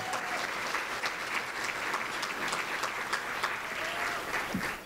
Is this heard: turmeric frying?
no